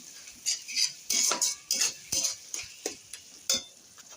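A utensil scrapes and clinks against a pan while chow mein is stirred and tossed, in a brisk, uneven rhythm of close, loud strokes over a faint background sizzle.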